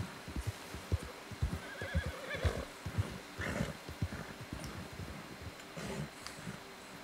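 A horse in the game Red Dead Redemption 2 whinnies and snorts while its hooves clop in irregular steps, fairly quiet, with a few louder knocks and a breathy neigh rising over the low ambience.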